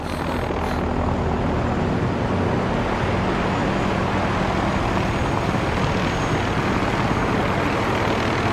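Helicopter flying overhead in a spy thriller film, a loud continuous engine and rotor drone holding steady throughout with no speech.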